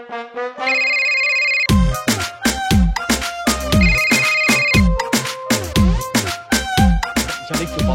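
A phone ringtone plays a bright, repeating electronic melody of quick, evenly spaced notes that rings steadily and loudly for the whole stretch, with no voices over it.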